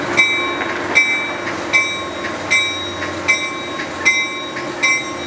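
Amtrak train 533 rolls past a station platform on its way to Union Station, wheels clicking over rail joints in a steady rhythm of sharp beats about a second apart, with a high tonal ring over a continuous rumble.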